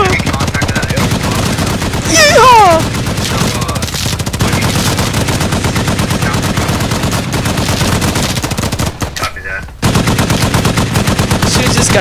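Gunfire in the video game Squad: loud, sustained rapid automatic bursts fill the whole stretch with dense cracking shots. A shouted voice breaks in early and there is a brief pause near the end.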